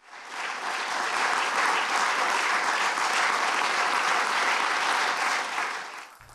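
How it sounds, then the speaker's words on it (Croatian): A theatre audience in Dubrovnik applauds enthusiastically after the Orlando Grand Prix laureate is announced, a dense, even wall of clapping that swells in and holds strong for several seconds before tailing off, with no voices. "A kazalište je posebno odjekivalo oduševljenim pljeskom publike nakon proglašenja laureata Grand Prix nagrade Orlando"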